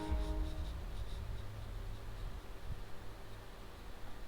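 A pen scratches across paper in short strokes, close and fairly soft, over a low background hum that fades after the first moments.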